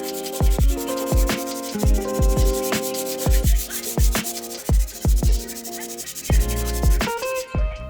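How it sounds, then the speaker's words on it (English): Dried joint compound edges sanded by hand, short rhythmic scraping strokes repeating close and fairly loud, each stroke distinct with brief pauses between them. "I let the joint compound dry overnight and then sanded up the edges to clean them up."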